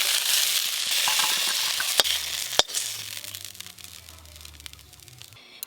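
Neem flowers and brinjal pieces fry in oil in a pan with a steady close hiss and crackle, broken by two sharp knocks of a spatula against the pan.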